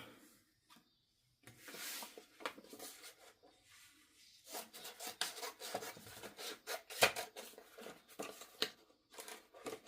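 Scissors snipping through a paper sheath dress pattern panel, a run of close, dry rasping cuts and rustles that pause briefly before resuming in quicker bursts.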